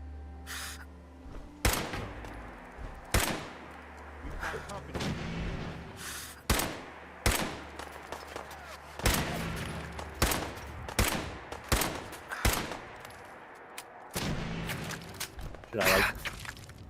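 Gunfire from a weak gun in the Fallout 4 video game: a dozen or so sharp, irregularly spaced shots over a murky game background, loud and close.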